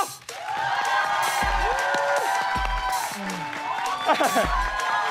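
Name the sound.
studio audience applause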